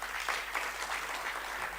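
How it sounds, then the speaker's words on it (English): An audience at a community land summit session claps in a steady burst of applause, fairly faint and distant, with no talking. "Let's give them a round of applause."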